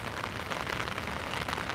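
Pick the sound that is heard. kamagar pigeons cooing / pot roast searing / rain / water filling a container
rain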